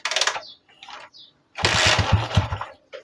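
A Honda TMX 125 motorcycle fitted with a full-wave charging setup is started up close: a short mechanical burst, a pause, then the engine catches and runs in a rough, throbbing idle.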